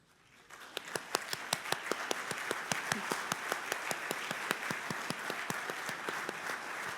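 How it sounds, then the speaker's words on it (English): Audience at the 2024 Junior Achievement Business Hall of Fame main event breaking into applause, steady sustained clapping from a crowd with distinct individual claps standing out near the front, starting quietly and staying even to the end. "stand for a round of applause"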